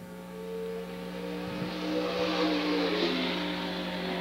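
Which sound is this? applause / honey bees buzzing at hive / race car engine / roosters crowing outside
race car engine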